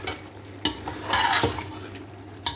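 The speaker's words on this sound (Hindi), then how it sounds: "मटन बॉईल करके रखा हुआ है, इसको ऐड कर देंगे और इसको करेंगे हम अच्छे से मिक्स" Boiled mutton stirred and fried in a pot while making yakhni pulao, with close scraping strokes of a spoon over a steady sizzle.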